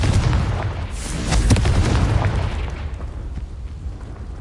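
A Confringo blasting spell from a Ravenclaw witch video game explodes with a loud booming burst, sharp cracks peaking mid-clip before the rumble fades away.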